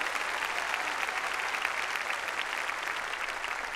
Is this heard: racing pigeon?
no